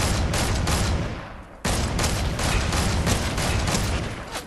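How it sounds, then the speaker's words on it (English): Sustained bursts of automatic gunfire in a Fortnite Battle Royale firefight, dense and loud throughout with a brief break partway before the shooting resumes. "Careful, he's shooting at us."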